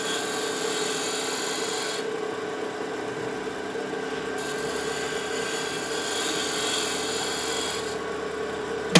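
A gouge cuts wood on a spinning lathe while turning an enclosed form, giving a steady close rasping hiss over the motor's hum, with the cut briefly changing tone.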